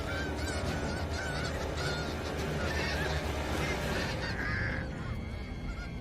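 A crowd of snow geese honking loudly and continuously, many overlapping nasal calls close by with a dense flock din underneath.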